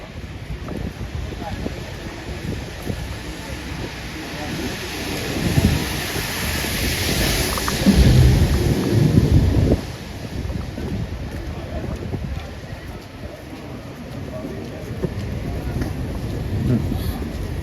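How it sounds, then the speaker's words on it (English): Rain falls steadily outdoors at a street protest, with a constant hiss, gusty wind buffeting, and a deeper rumbling swell in the middle, while voices talk over it. "It's raining."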